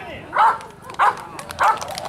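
A trained protection dog barks on command during a demonstration, three sharp, evenly spaced barks close to the microphone over a low background murmur.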